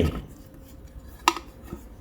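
A metal camping frying pan clinks and clatters with a sharp knock and a softer tap as it is handled, close by.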